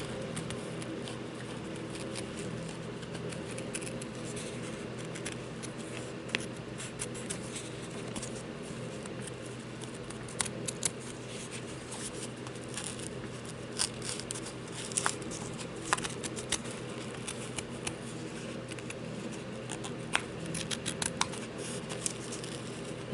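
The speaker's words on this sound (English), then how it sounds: "cut like this around the edges with the detail scissors" Small, crisp snipping clicks repeat irregularly over a steady background hum, detail scissors making short cuts around edges close by.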